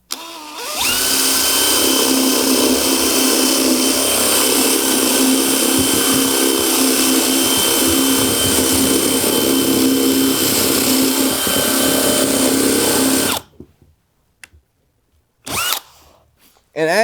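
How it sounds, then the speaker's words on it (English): A power drill fitted with a Walmart spade bit bores through wood, a loud steady whirring grind that runs continuously for about thirteen seconds before stopping abruptly, followed by a couple of short bursts. "We're gonna go right into the mark, start our drill bit, and we're gonna have a perfectly clean, perfect hole."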